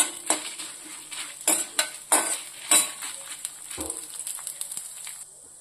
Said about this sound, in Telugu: అలాగే 5 ఎండుమిర్చి కూడా వేసుకోవాలి. ఇవి బాగా కొంచెం ఎర్రగా వచ్చేటట్లుగా వేయించుకోవాలండి.